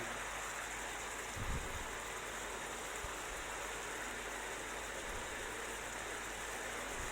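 Water is poured into a pot while preparing Hokkien mee, a steady, faint splashing hiss that runs evenly throughout without talking.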